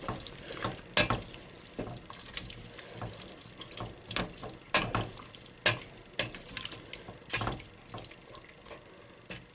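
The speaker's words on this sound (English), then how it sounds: "Give that a good stir" Black eye beans with thyme being stirred in a pot, a spoon knocking and scraping repeatedly in an irregular rhythm over wet, sloshing sounds, close and moderately loud.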